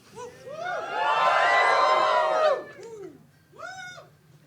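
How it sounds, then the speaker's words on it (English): Live podcast show audience cheering and whooping loudly for a couple of seconds, then fading, with a brief shorter burst of cheers near the end. "Don't cheer that loud."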